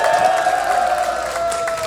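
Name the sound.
crowd applause at rally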